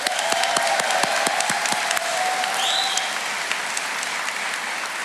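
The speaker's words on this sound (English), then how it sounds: "let's give Travis another round of applause" An audience applauds a speaker at an apprentice school graduation ceremony, with a burst of sharp claps up front settling into steady, even clapping that carries to the end.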